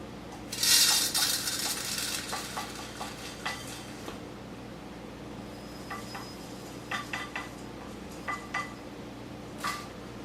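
Lentils stirred in a heated pan with a utensil, giving scattered scraping clinks and light taps against the metal, busiest early on and then sparse and intermittent, close up with no talk.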